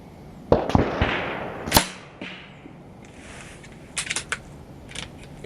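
A Crosman 2240 HPA PCP air gun with a max-flow setup fires outdoors at 75 yards with 18-grain pellets; several sharp, close cracks stand out at irregular intervals, followed by a cluster of fainter ticks.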